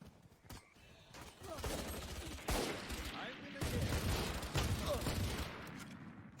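Video game gunfire in a tactical shooter match: rapid bursts of shots crack in quick succession, loud and close, mixed with clattering effects and a low rumble, alongside spoken game announcements.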